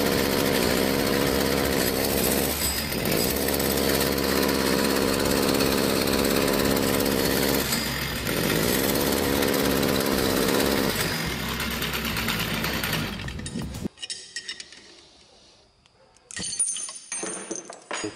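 Small engine with a restricted exhaust runs loud and steady, its note sagging and bogging in spots, then cuts off abruptly near the end before brief sputtering bursts.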